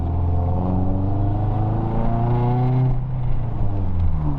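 A 2002 Toyota Celica engine fitted with a short ram air intake revs steadily, its pitch climbing and falling in a continuous loud drone, with a deep rumble underneath and no voices.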